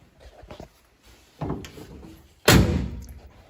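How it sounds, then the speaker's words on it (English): Chevrolet Impala car door on a project car being swung shut: a few soft knocks, then a single sharp, loud slam as the latch catches, nearby and without talk. "And a door that latches."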